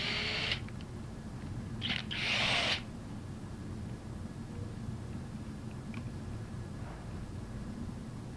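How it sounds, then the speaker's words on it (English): A cordless impact gun removes the discharge manifold bolts on a Versamatic bolted metal air-operated pump. It sounds as two short, loud whirring bursts, one brief and one lasting about a second, over a steady room hum with no talk. "we're going to use a cordless impact gun"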